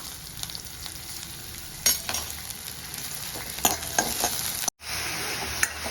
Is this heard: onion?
yes